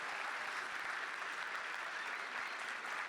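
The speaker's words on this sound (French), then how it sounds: "Donc, on peut l'applaudir encore une fois." An audience claps steadily at a handmade cosplay contest, a dense, even wash of many hands applauding continuously from a distance, with no voices rising above it.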